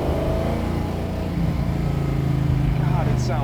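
A car engine runs close by with a deep, steady rumble that rises slightly as it revs, and someone talks over it.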